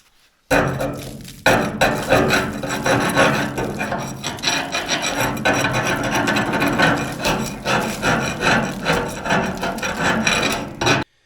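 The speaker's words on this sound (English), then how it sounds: "we're going to take this chisel and just kind of scrape some of it off" A chisel scraping rust off a Corten steel shipping container: loud, close, repeated rasping strokes with gritty metallic scratches and occasional knocks, continuous for about ten seconds with no speech.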